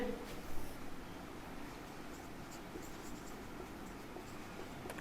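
Marker or chalk writing on a board during a physics lesson on error analysis, faint continuous scratchy strokes at low level with no speech.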